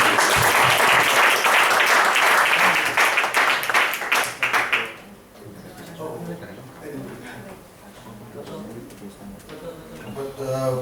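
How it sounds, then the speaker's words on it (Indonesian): Loud crowd applause fills the first half, then fades out as a voice begins speaking over quieter room noise. "Beri tepuk tangan lagi buat Pak Justin."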